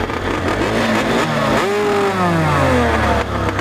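A car engine revs hard and bounces repeatedly off the rev limiter during a drifting session, a loud, steady, close engine roar with rising and falling pitch sweeps and no talking.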